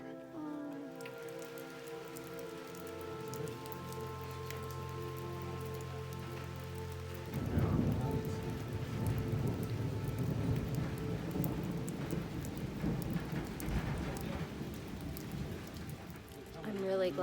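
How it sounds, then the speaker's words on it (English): Steady rain patters on a surface at a shelter on the Appalachian Trail in New Hampshire, growing heavier and denser partway through, with a low rumble of distant thunder at the start. "as you can hear, it's thundering and it's raining"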